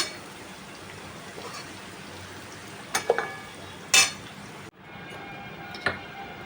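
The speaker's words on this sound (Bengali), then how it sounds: "আলু পেঁয়াজটা ভাজা হয়ে গেছে, এবার ভাজাটা উঠিয়ে নিচ্ছি আমি।" Potatoes and onions fry quietly in a pan, a soft continuous sizzle broken by a few sharp metallic clinks of a utensil, then a brief drop before the low frying resumes.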